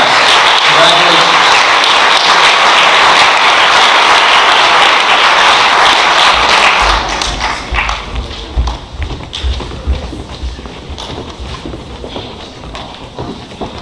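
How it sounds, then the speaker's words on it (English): Loud, dense applause from a large crowd at a school sports banquet and awards ceremony fills the hall, then thins to scattered clapping and murmuring after about halfway. "A big round of applause for our male and female with the highest grade point averages"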